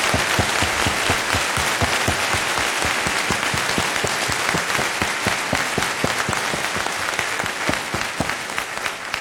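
Sustained applause from a large conference audience in a hall at the closing of FOSDEM 2018, dense and steady clapping throughout with no speech over it.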